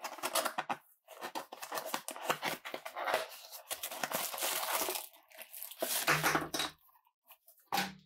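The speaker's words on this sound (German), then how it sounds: "Also auspacken." A BenQ GV1 streaming projector is unpacked from its cardboard boxes, with close, irregular crinkling, rustling and scraping of cardboard and packaging, broken by short pauses and a few sharper handling bumps.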